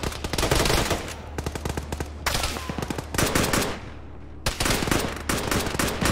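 Machine gun fire in a military video game battle, with repeated rapid bursts of loud, close shots separated by short pauses, no talk over it.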